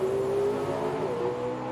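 Chevrolet and Dodge drag race cars launch off the starting line in a final round, a loud sustained engine roar with a steady high drone that shifts slightly as the cars pull away.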